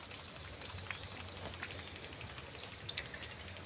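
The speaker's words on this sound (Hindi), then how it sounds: "आप लोग देखिए हमारे गांव में बहुत तेज बारिश हो रही है।" Heavy rain pours down steadily on a village, a dense, even hiss with scattered sharp patters of drops striking nearby surfaces.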